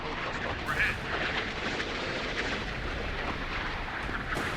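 Missiles striking MiG-17 jets in a video game, heard as a dense, continuous rumble of explosions and booming fire with no gaps, loud and close throughout.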